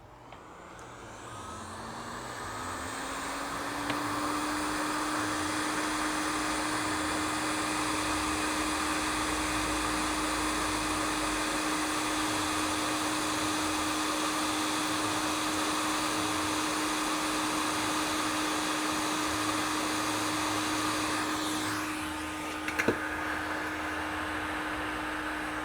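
Hot air rework station heating a memory chip on a broken MacBook Air logic board, a steady loud blowing whoosh with a rising whine that settles into a constant tone, then cuts off near the end.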